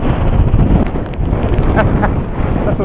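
Strong wind buffets a Scottish cliff top in the rain, a loud, steady low rumble pounding the microphone throughout, with faint sharper taps of rain or hail.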